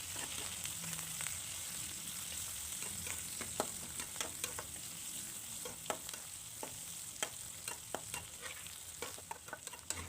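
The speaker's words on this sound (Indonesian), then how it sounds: "baru dimasukkan ebinya. Setelah itu baru digoreng kembali sampai ebinya ini juga matang." Dried shrimp and green chillies fry in oil with a soft, continuous sizzle and frequent sharp crackles and stirring clicks, quiet and close, with no voices.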